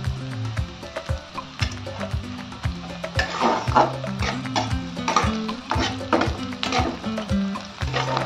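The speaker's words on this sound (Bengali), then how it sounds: "এই পেঁয়াজের সঙ্গে এগুলো আমি একটু ফ্রাই করে নেব।" Cashews frying with onions in a pan for restaurant-style chicken changezi, a steady close sizzle under rhythmic stirring and scraping, with background music over it.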